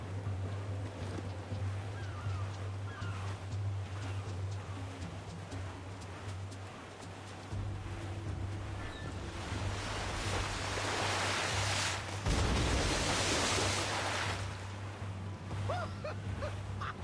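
A sailing ship cutting through ocean waves in Assassin's Creed Black Flag: a low steady rumble of hull and wind under rushing surf that swells into a louder wash of spray and waves toward the end, with no voices.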